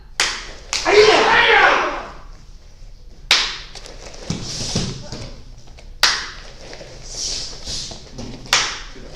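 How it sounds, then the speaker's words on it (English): Participants in a live online Level 1 class clap together in unison, following a leader, producing a few sharp, separate claps spaced several seconds apart, fairly close and distinct against a quiet background. "And first clap."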